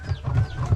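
Chickens clucking close by, a run of low, throaty bursts with faint bird calls behind.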